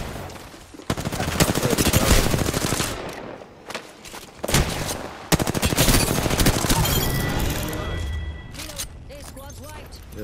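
Apex Legends gunfire crackles in dense rapid bursts, with loud volleys separated by brief gaps and mechanical clatter, while players talk over the shooting.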